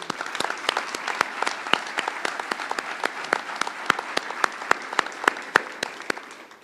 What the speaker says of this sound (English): Let's give Kathy a round of applause.